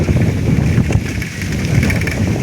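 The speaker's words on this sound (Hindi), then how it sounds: "देखते केमी वर्षा हो" Rain falls in a rural village, a loud, steady hiss mixed with wind buffeting the microphone and low rumbles, continuous for the whole stretch with no voices.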